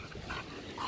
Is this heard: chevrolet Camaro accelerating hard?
no